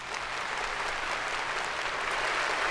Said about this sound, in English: There's some applause there for Poppy.